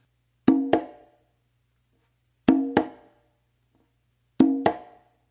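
Three pairs of conga hits, each a ringing open tone followed quickly by a sharp close slap, evenly spaced with silence between, close and clear.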